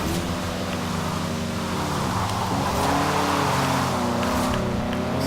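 A 2015 Audi TTS Coupe race build's engine in Forza Horizon 4, driven sideways with traction control off, droning and shifting in pitch with a tire-scrubbing hiss, loud and steady throughout.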